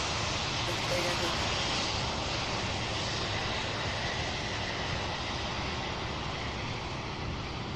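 A jet airliner powers up for takeoff at Louisville's SDF airport, a loud, continuous broadband engine roar holding steady throughout, with faint talk underneath.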